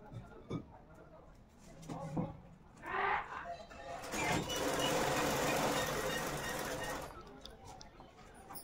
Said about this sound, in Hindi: यहाँ आपको थोड़ी सिलाई मशीन की आवाज़ भी आ रही होगी